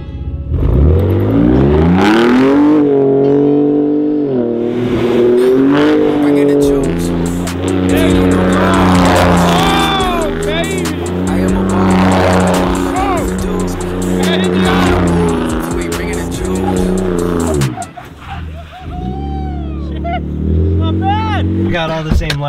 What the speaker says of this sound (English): Exhaust sounds great, but it's making a new noise.